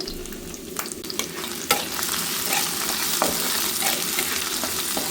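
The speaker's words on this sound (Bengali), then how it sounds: "এদিক দিয়ে গরম তেলের মধ্যে রসুন কুচি দিয়ে দিচ্ছি" Chopped garlic, about four cloves, sizzling in hot oil for a tempering, a steady loud frying hiss with sharp crackles and stirring clicks scattered throughout, up close with no talking.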